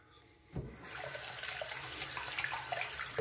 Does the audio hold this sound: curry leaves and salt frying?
no